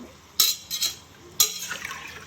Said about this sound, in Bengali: এখন আমি পানি দিয়ে দিলাম একটু পানি লাগবে